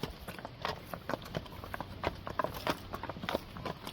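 Hooves of a young team of Belgian horses pulling on a road, a steady uneven clip-clop of many footfalls at moderate distance, fairly quiet, with no talk.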